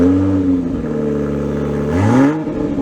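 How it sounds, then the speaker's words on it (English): A Toyota Supra's exhaust revs up, settles into a throaty idle, then blips sharply again near the end, loud and close. "I'd be remiss if I didn't give you guys an exhaust note on a Supra."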